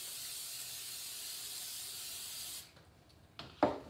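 Cooking spray hisses onto a baking pan for molasses hermit cookies in a steady close spray lasting about two and a half seconds. It then cuts off to near quiet, followed by a couple of light knocks.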